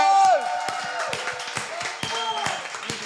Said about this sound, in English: can we please give a nice round of applause to George?